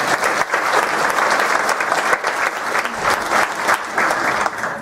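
A crowd at a lieutenant governor candidate forum in Denton County, Texas, gives continuous loud applause, dense and close, holding steady for the whole span.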